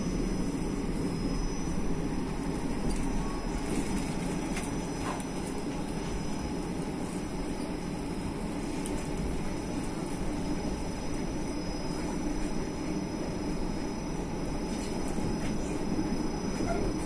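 A Moscow Aeroexpress airport train running, heard from inside the carriage as a steady, loud rumble of wheels and rails with faint squealing and a thin high whine, continuous and even throughout with no one talking.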